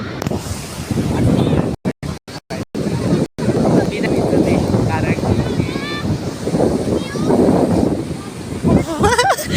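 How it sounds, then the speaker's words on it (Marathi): Sea waves breaking on the shore at Dona Paula beach in Goa, a steady loud rush of surf mixed with heavy wind buffeting on the microphone, with voices talking throughout. "आता लाट आली"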